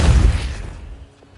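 A single Pulso spell blast from the game Hogwarts Legacy: a loud, deep boom that hits at once and decays over about a second into quiet.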